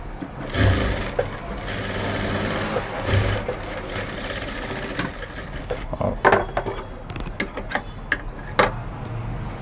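Sewing machine stitching piping onto straight fabric for a blouse, a steady mechanical whir broken by short thumps and clatters, loud and close with no talk.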